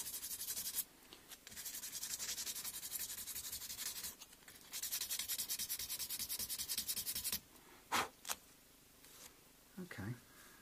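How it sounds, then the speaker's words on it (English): Sandpaper rubs back and forth over part of a Vintage V100 electric guitar in long, steady scratchy strokes, broken by short pauses and a few brief knocks near the end; it is close and fairly quiet. "I've got some finer sandpaper here too that I can do a little bit with"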